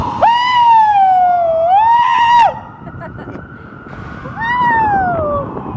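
A person imitates a wailing siren with their voice, two long rising-and-falling whoops, then a third after a short pause, loud and close.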